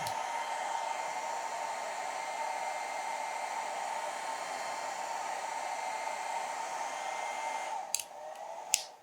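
Philips BHC017/00 foldable 1200-watt Thermoprotect hair dryer running on its second, stronger airflow and heat setting, a steady close whooshing roar with a bright tonal whine, ending with a couple of sharp clicks.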